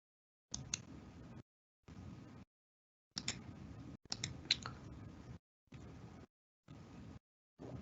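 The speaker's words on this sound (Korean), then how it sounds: "우측 마우스 누르고" Short bursts of clicking come in separate clusters with silent gaps between them, close and fairly quiet, like a mouse button pressed repeatedly.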